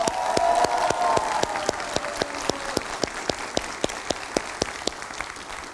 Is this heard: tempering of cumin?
no